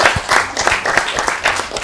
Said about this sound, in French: Applaudissez pour Tata Lucie